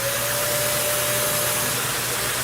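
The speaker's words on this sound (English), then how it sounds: "This is my vacuum on." A Kirby vacuum cleaner runs steadily nearby, a loud, even motor roar with a constant high whine and no pauses or talking.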